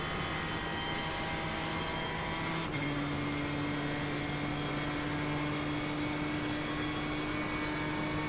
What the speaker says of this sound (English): And we're driving the Ford GT GTE car